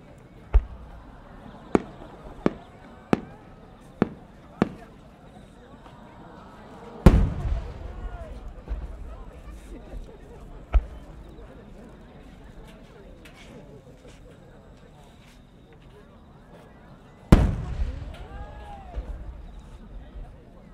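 Fireworks burst over the Omagari fireworks festival in Akita, with several sharp separate bangs early on, then two heavy booms followed by long crackling, rumbling tails and faint distant pops.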